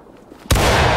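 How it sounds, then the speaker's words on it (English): A loud, sudden musket volley fired together by drilling Confederate soldiers in War of Rights booms after a quiet moment and rolls into a lingering, smoky-sounding echo. "So they will go up, they will aim, they're gonna shoot."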